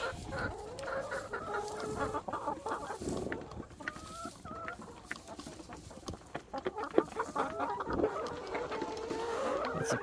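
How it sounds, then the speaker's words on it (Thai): Laying hens cluck and squawk continuously inside a crowded coop during egg collection, a dense, close chorus of overlapping calls with no talking. "ไก่เต็มเลย"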